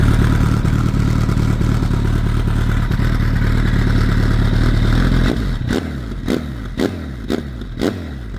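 A Kawasaki ZX-14R (ZZR1400) motorcycle engine idles cold with a steady, close mechanical drone and clatter, then settles into a lower, uneven idle punctuated by a few sharp knocks toward the end.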